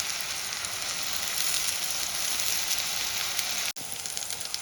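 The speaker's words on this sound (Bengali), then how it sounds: "পেঁয়াজটা নিয়ে হালকা ব্রাউন হওয়া পর্যন্ত ফ্রাই করে নেব।" Onions frying in a pan until lightly browned, a steady close hiss and crackle that runs almost without a break, with no talking.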